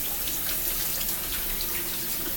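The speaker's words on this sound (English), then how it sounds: "now I'm going to switch this over to cold water" Cold water runs steadily from a tap, a close, continuous hissing splash with no pauses.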